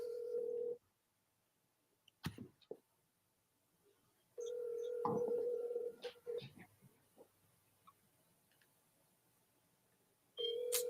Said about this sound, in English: let me call him back right now